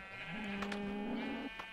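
A single drawn-out animal bleat or moo from a Minecraft cow plays at low volume, a rising tone held for about a second before cutting off, with no talking.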